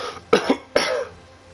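Three sharp coughs close to the microphone, the first two tight together and the third trailing into a rough, throaty clearing, after a drink went down the wrong way.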